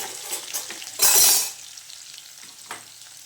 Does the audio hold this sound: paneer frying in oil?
yes